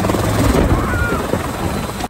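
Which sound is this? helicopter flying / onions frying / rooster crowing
helicopter flying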